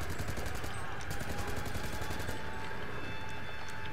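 Continuous rapid gunfire in a first-person shooter video game, dense and loud throughout, with repeated shots blending into a steady barrage and no pause.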